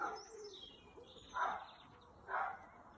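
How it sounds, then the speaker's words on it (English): Birds call outdoors in a quiet garden, with soft chirps and two louder cooing calls about a second apart. "You could hear some birds in my garden."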